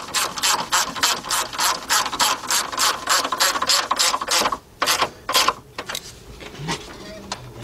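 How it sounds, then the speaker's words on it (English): A 3/8-drive ratchet with a 10 mm deep socket tightens bolts on a 2004 Chevy Monte Carlo 3.4 engine during intake manifold and head gasket work. Quick, even clicking strokes come up close, then slow into a few separate pulls. "Get my 10 millimeter deep, 3/8 drive. Go ahead and tighten them bolts up."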